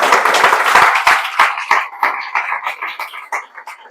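An audience at a ceremony honouring a student claps in a dense round that gradually thins into sparse, uneven individual claps as it fades.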